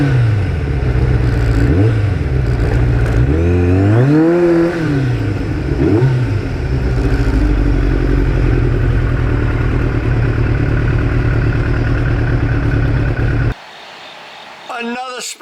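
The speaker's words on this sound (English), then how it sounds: "bike running like a Rolex watch" A 1989 Kawasaki GPX750R motorcycle under way, its loud engine rising and falling through revs and gear changes for most of the ride before cutting off abruptly near the end, leaving quieter brief noises.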